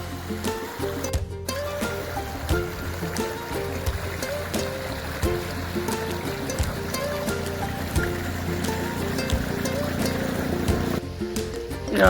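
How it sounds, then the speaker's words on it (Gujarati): Hill stream water flows steadily down from the hills, a dense continuous rushing and splashing that fills the whole stretch at close range, with faint voices in the background. "આમાં ડુંગરનું પાણી આવે"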